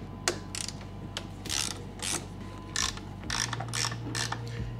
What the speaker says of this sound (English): with your 3/8 ratcheting wrench, loosen those bolts